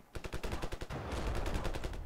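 Automatic gunfire in the video game Ravenfield rattles off in rapid, evenly spaced bursts, then runs into a denser stream of overlapping shots, fairly quiet in the mix.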